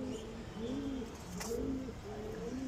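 Pigeons give low, rolling coos in repeated phrases about every half second, close by and steady over a faint background hiss; no one speaks.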